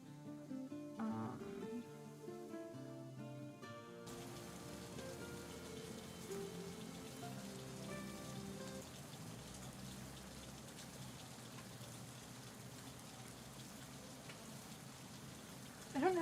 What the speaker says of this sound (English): We have like absolutely pouring down rain and it's amazing.